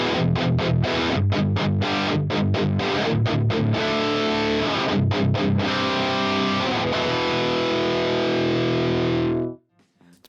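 An electric guitar runs through an Axe-FX JP2C amp preset, playing loud, heavily distorted chugging chords and sustained notes for about nine seconds before cutting off abruptly into silence.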